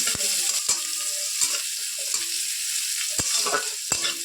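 Chopped onion frying in hot oil with cinnamon, cardamom and clove for a Pangas fish curry, a steady sizzle broken by sharp scraping stirs at irregular intervals, close and fairly loud.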